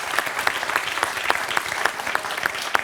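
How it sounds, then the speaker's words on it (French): Studio audience on a French quiz show applauds a contestant: steady, fairly close clapping from a modest crowd with a few sharper individual claps standing out, no voices over it. "On peut applaudir Michel quand même."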